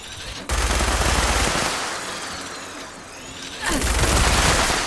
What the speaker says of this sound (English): It's a suppressor's explosive minigun, if you're wondering.